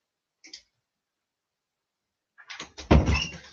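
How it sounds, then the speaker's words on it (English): A door closing in a room, with a small click early on, then a louder clatter and thud as the handle latch catches, with no speech. "And now I've closed the door"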